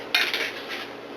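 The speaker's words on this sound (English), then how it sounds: "Pour all these dishes in the sink" Dishes and cutlery clatter into a kitchen sink in one brief, close, metallic rattle that fades within about a second.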